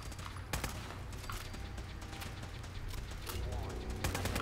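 A gun firing in the video game Fallout 4, a handful of sharp shots spaced irregularly over steady background noise, with a voice talking between and over the shots.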